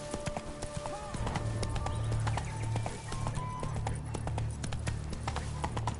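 Roach, Geralt's horse in The Witcher 3, gallops with steady clip-clop hoofbeats at close range, set against ambient game sound and a low droning tone; a voice speaks briefly over the hooves.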